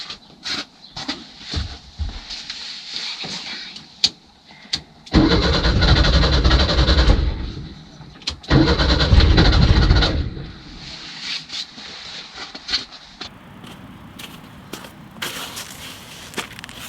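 An old VW Bus engine that sat for over 30 years cranks and fires into two loud bursts of rough running, then sputters and dies between attempts, with scattered clatter around it.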